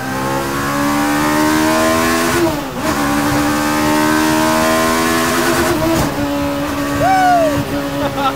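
A custom mid-engine Mini screams at very high revs, its harmonics holding steady and then dipping and climbing again between gear changes. The sound is loud and close from inside the cabin, and a voice speaks briefly.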